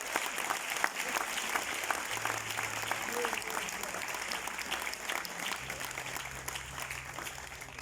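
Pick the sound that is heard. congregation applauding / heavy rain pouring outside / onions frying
congregation applauding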